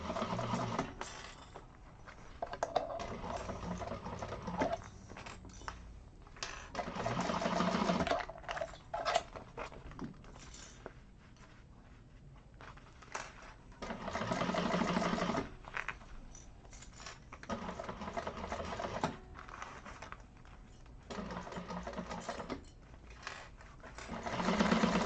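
A sewing machine stitches the lining of a handbag in repeated fast runs of close, steady whirring, broken by brief pauses, with no talking.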